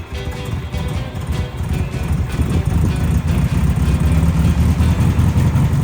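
Engine of an abandoned 1980s gullwing-door supercar running on fuel fed from a jerry can, a steady, loud low rumble that builds slightly in intensity throughout, with no talk.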